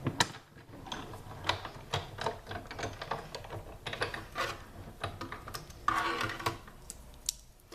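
A hand-cranked die cutting machine cuts a paper chick shape, giving a series of close, irregular clicks and ratcheting mechanical ticks as the crank turns.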